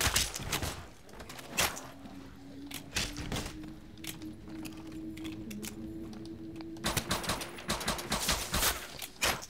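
Gunfire from a World War II-era gun in Call of Duty: World at War custom zombies mode comes as sharp, irregular single shots and short bursts, dense at the start and again near the end, with a steady background drone between.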